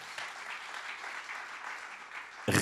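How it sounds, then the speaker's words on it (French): Audience applause at an evening conference held at a farm, a steady patter of many clapping hands lasting the whole stretch, with a louder burst of sound breaking in at the very end. "On peut l'applaudir d'ailleurs"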